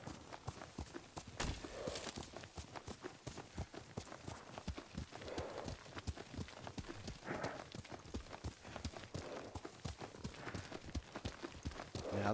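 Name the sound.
horse hooves clip-clopping in video game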